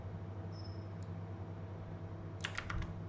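Computer keyboard during a Ctrl+C, Ctrl+V copy-paste, a quick cluster of soft clicks near the end over a steady background hum, preceded by a faint isolated tick.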